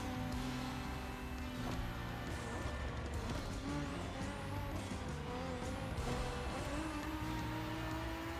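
Racing car engines in the video game The Crew Motorfest roar and whine steadily with shifting revs, tire squeals and passing cars in a dense, continuous mix.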